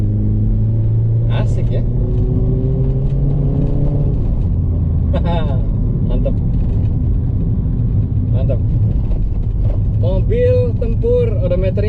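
Honda Freed 1500cc engine fitted with an aftermarket KNN open filter and aftermarket muffler, a steady low rumble throughout with people talking and exclaiming over it.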